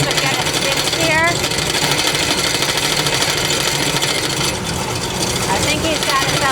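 A skid steer runs while a kiln pad is installed, its engine a loud continuous rumble with clattering mechanical noise throughout, close to the microphone and steady in level.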